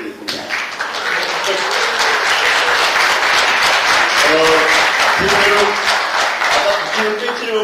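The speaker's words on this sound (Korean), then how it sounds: "한번 박수 부탁드리겠습니다" A seminar audience in a lecture hall applauds loudly and continuously as a politician is introduced, with dense clapping throughout and a voice speaking over the latter half.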